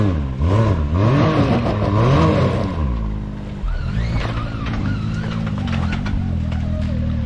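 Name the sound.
off-road vehicle revving, spinning its tires on a rock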